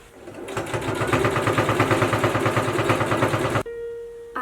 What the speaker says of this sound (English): Now I'm gonna sew this together.